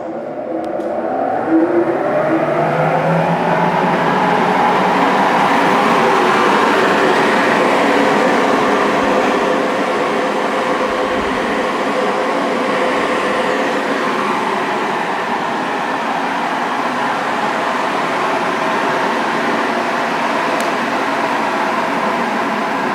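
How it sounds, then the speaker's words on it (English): Vacuum table blower on a Butfering 53-inch wide belt sander with segmented platen runs as a loud, steady, broadband rushing drone with a faint tonal hum, unbroken and without voices. "you do have your blower for that vacuum table"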